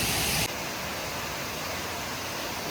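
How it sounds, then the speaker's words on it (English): A waterfall cascades down over rock on a hiking trail, heard as a steady, dense rushing hiss that runs for the whole stretch with no voices. "Check out this waterfall, it is so pretty."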